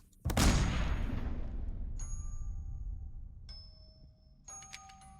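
A single loud gunshot bursts out near the start of a scene in the horror video game Layers of Fear and rolls off in a long fading echo, with faint tonal chimes ringing in afterward.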